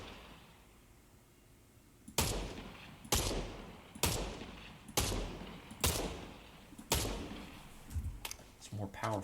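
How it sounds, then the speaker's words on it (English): The Enforcer AR rifle in Fortnite fires a series of about seven sharp, loud single shots, roughly one second apart, each with a short decaying tail after a quiet start. "And then the Enforcer AR."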